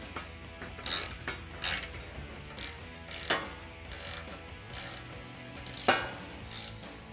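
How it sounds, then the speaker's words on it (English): A ratchet tightens a button head bolt on a cold air intake for a Jeep Wrangler JK, giving quiet, close bursts of ratcheting clicks in a series of short strokes. "use a 12mm wrench to hold this bottom portion down while you tighten down the button head bolt"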